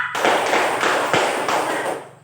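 A group claps together in a quick rhythmic pattern of several sharp bursts, loud and close, then stops.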